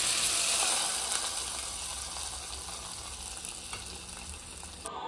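Tempering spices sizzle hard in hot oil for a homestyle mushroom sambar, a loud dense hiss that starts strong and slowly settles, with faint clicks and no voices.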